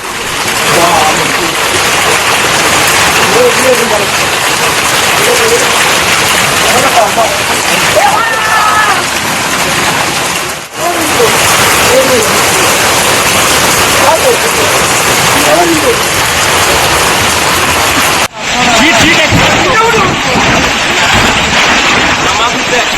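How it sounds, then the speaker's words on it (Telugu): Heavy hail and rain pour down in Bengaluru in a loud, constant roar of pelting, with muffled voices faintly underneath and a couple of abrupt cuts. "క్యాథలిక్ క్లబ్లో వడగళ్ల వాన పడుతుంది"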